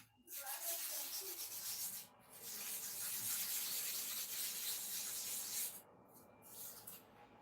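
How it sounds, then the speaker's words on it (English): A rotted clipper blade is ground back and forth on a sharpening stone, a steady close scraping rub that runs almost without pause, broken by two short gaps, with no voices. "if you don't know way out of sharpening clipper blade using the stone"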